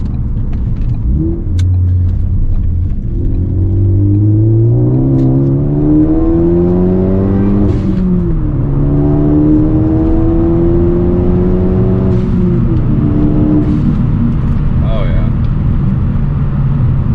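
A car fitted with a new COBB rear motor mount accelerates hard from inside the cabin, its engine climbing steadily through the revs, easing briefly and climbing again, loud and close, with someone talking over it.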